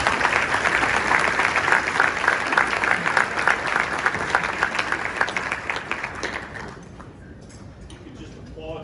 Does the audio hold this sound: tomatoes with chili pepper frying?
no